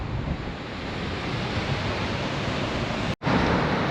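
Ocean surf rolls onto the coast near Nebukawa beside the Manazuru road, a loud, continuous wash of breaking waves mixed with gusting wind on the microphone, cutting out briefly near the end.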